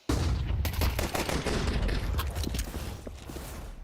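Counter-Strike gunfire crackles in a dense, rapid burst of loud shots that rattle on close together, fading slightly toward the end, during a professional esports match.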